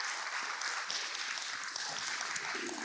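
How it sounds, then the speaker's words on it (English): An audience at a crypto community event claps for itself, a soft, steady wash of applause heard at a distance for a few seconds. "Clap your hands for yourselves,"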